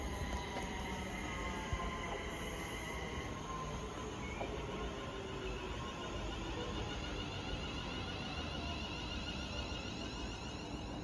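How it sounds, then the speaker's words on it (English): West Midlands Railway passenger train arriving at Sandwell & Dudley station: a continuous loud rumble of wheels on rails with faint squeals and hiss, steady throughout, no voices. "arriving now is going to be the 14:36 West Midlands Railway service"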